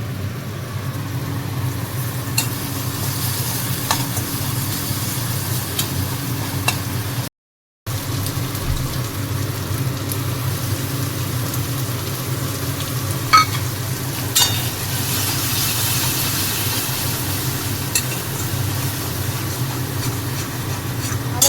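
Ginger paste stirred and frying in a pan while cooking a cauliflower roast, a steady close sizzle with scraping stir strokes running throughout and a short break partway.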